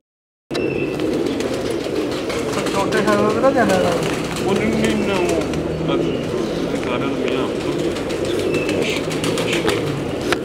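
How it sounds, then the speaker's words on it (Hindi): Pigeons of a prized breed kept by a fancier in Lahore, cooing and stirring nearby under steady conversation throughout. "ਇਹ ਇਹਨਾਂ ਦਾ ਸਾਰਿਆਂ ਦਾ ਪਿਓ ਜੀ ਜਿੰਨੇ ਕਬੂਤਰ ਨਾ ਸਾਡੇ ਕੋਲ"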